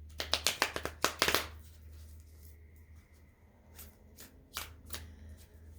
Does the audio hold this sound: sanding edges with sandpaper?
no